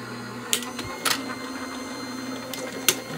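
A Gemini Jr. die cutting machine runs under extra pressure, giving a steady low mechanical hum broken by a few sharp clicks and creaks, close by with no talking.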